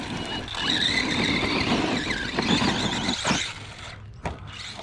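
An Arrma Gorgon 2S RC monster truck tears across an open area, its high electric motor whine holding strong and warbling before cutting out in the last second.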